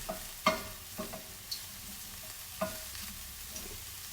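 Lean sausage frying in a pan, giving a faint, sparse sizzle with scattered soft clicks and pops, some clattering stirring touches, and no voices.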